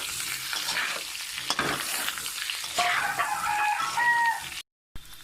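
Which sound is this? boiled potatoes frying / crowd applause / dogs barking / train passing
boiled potatoes frying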